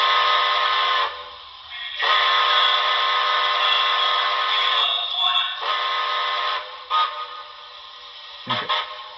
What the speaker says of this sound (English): F-22 is a whistle toggle.